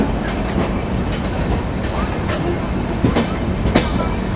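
The Chennai Rajdhani Express stands at a station platform with its diesel locomotive and coaches, giving a steady loud rumble and hum with occasional clanks and metallic clicks, while faint voices drift in the background.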